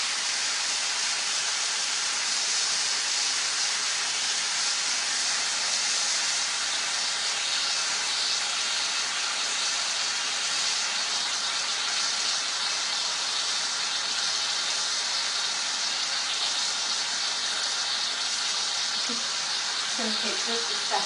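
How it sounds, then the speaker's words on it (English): Steam hisses continuously and loudly from a pressure cooker's release valve while pasta cooks, a steady broad rush that barely changes before a faint voice creeps in near the end. "I like how the release button is down here, so you don't have to get your finger next to the steam."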